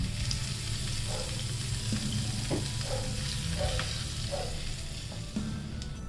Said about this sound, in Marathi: थोडासा हिंग तडका या चटणीला देऊया छान